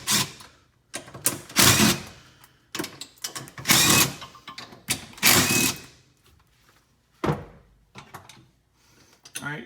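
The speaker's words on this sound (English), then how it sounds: "12mm socket, remove all 4 of your bolts to mount down to the seat frame here" A 12mm socket ratchet works on seat bolts of a Yamaha Wolverine, giving repeated close bursts of ratcheting clicks separated by short pauses and small mechanical clunks.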